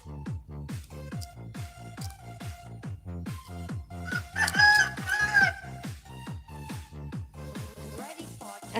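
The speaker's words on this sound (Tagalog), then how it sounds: "Ang ingay ng manok sa labas." Chickens clucking steadily outside with a rooster crowing loudly partway through, the rapid repeated clucks forming a busy rhythmic backdrop around the crow.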